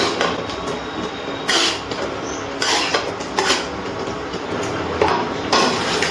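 Fried prawns are stirred in a curd gravy in a pan on an induction cooktop, giving repeated metallic clinks and scrapes of a utensil against the pan in an uneven rhythm, close and fairly loud.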